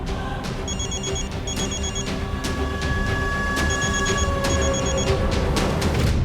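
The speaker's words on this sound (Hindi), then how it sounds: "अरे किसी का फोन बज रहा है" A phone rings repeatedly in short trilling bursts, close by, over a steady background hum.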